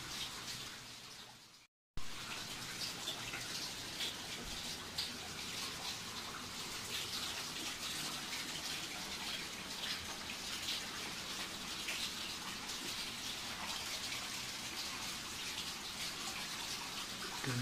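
Water flowing inside the cave at Gaighat waterfall, a continuous loud rushing wash that fills the space after a brief cut near the start, with no voices.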